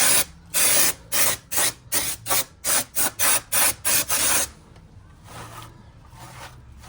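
An aerosol can of Lanoguard protective coating sprays in a quick series of about eleven short, loud bursts onto rusty brake parts of a 1995 Toyota Celica GT4, then falls quiet with faint background noise.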